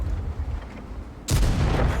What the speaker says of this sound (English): Here comes an artillery shell